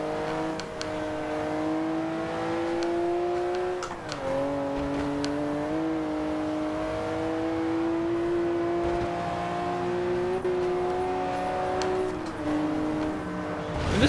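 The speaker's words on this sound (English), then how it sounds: "Lamborghini coming out." A Lamborghini engine revs and holds a strong, steady tone in the racing game Forza Horizon 2, rising and dipping with gear changes and throttle lifts around four and twelve seconds, loud and continuous with no talk.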